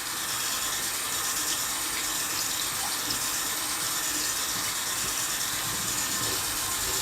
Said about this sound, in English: let's stick it under some running water